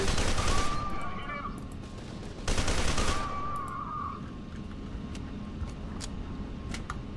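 Replica soldiers in F.E.A.R. 2 fire rapid automatic bursts, two loud volleys a couple of seconds apart, followed by scattered fainter shots and clicks over a rumbling game backdrop.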